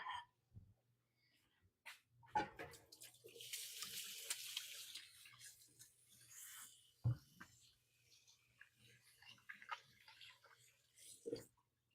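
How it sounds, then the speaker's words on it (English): A kitchen faucet runs while hands are washed, a soft hiss of water for a few seconds among scattered clatters and thumps, with faint distant barking. "I'll wash my hands"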